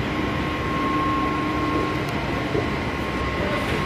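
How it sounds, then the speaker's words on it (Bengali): Kolkata metro train running from New Garia toward Ruby gives a constant close rumble with a thin steady whine on top and a small knock near the end, without speech. "মেট্রো করে যাচ্ছি এখন আমি,"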